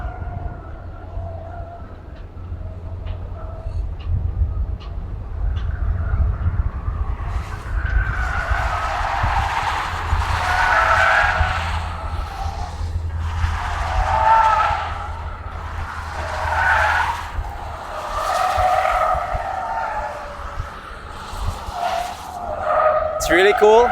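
BYD Seal cars lapping a race track at a launch event, tires skidding and squealing in repeated bursts over a steady rumble, with people talking nearby underneath.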